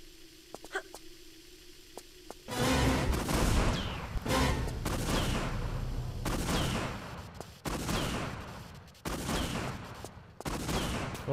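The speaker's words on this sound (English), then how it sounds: "Still have the shotgun." Repeated loud shotgun blasts in the Tomb Raider video game, roughly half a dozen sharp bursts at irregular intervals, each with a short ringing tail, following a quieter stretch of faint clicks.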